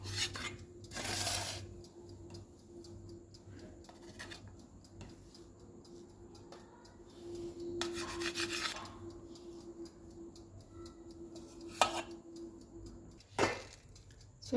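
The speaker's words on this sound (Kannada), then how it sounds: "ಶೇಪಾಗಿ ಕಟ್ ಮಾಡ್ಕೊಂಡ್ಬಿಟ್ಟು ಒಂದೊಂದಾಗಿ ತೆಗೆದು ಬೇಕಿಂಗ್ ಟ್ರೇಯಲ್ಲಿ ಇಡಬೇಕು" Soft rubbing and scraping as jeera biscuit dough is cut into shapes and the pieces are lifted onto a baking tray, with a few sharper taps and clicks near the end; close and quiet, no talk.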